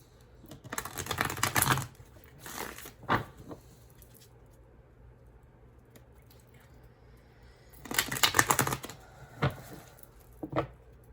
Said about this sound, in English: I'm going to do a bit of shuffling over here